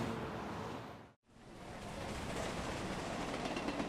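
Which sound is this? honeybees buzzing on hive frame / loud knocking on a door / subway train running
subway train running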